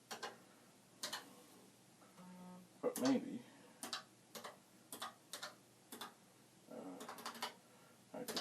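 Keys on an original Commodore PET keyboard are pressed one at a time, giving sharp, spaced clicks in an uneven rhythm, close and fairly quiet, with a brief muttered voice and a short tone partway through.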